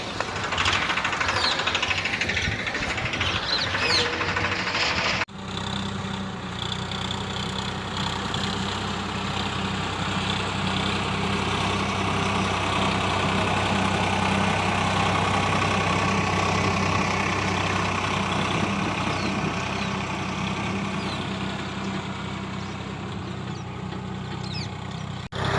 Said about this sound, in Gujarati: તો મિત્રો, હવે ટ્રેક્ટરને કામકાજ ચાલુ કરી દીધું છે.